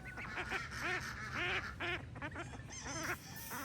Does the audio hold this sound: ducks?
yes